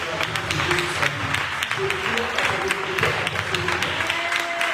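A church congregation breaks into sustained applause during a sermon, a dense crowd of clapping with voices calling out over it.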